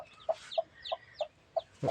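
Small domestic chicken chicks peeping in a steady series of short, high chirps, close by and fairly soft.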